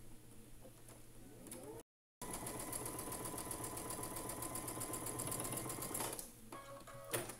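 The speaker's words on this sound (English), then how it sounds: "So we're sewing on the marked line." A sewing machine stitches fabric along a marked line in a quilting project, running in a steady rapid whirring rhythm for several seconds after a brief gap, then slowing and stopping near the end, close and alone.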